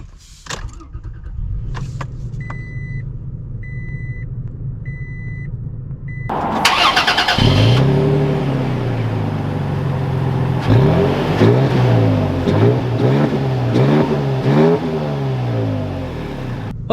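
A 2021 Toyota Tacoma SR5 with a V6 starts up after a few cabin chimes and clicks, then settles into a loud, steady run with rising and falling engine revs as the truck drives off.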